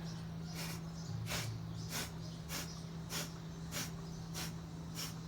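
Sharp breaths pushed out through the nose while using a neti pot, repeating at a steady rhythm over a low constant hum, fairly quiet and close.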